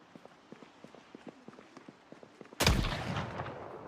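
Video game gunfire: a string of faint, regular shots, then a loud close blast and a noisy burst of fire after the two-and-a-half second mark.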